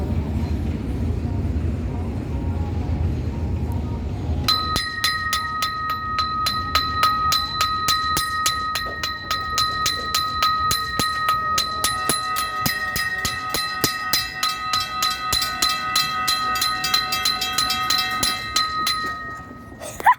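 A Florida East Coast train rolls past as a bell clangs in fast, steady repeated strokes that start suddenly and carry on loudly over the low rumble of the train.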